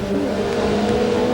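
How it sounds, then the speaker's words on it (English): A BMW production race car runs fast on the track during a 1995 Indycarnival GT production one-hour race, giving a loud, steady engine drone with a strong sustained tone and no voices. "BMW getting around pretty quickly too"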